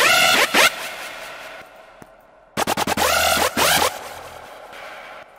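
Sytrus PWM screech synth in FL Studio, short harsh buzzy bursts with sweeping pitch, first a pair of stabs, then a quick stuttered run of chopped hits and a longer held screech, loud and close against near silence.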